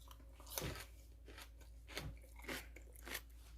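Close, crisp crunching bites of South Korean-style kimchi, four or five chews with short pauses between them, with no talking.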